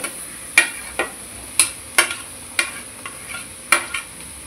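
Mashed potatoes are stirred into vegetables sautéing in oil, with a spoon striking and scraping the pan in a steady series of about eight sharp knocks over a quiet, faint sizzle.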